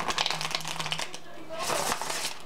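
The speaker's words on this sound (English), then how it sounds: "I'm just going to shuffle a few decks here." A deck of tarot cards being shuffled by hand, with quick riffling and papery flutters in two short bursts and a brief pause between them.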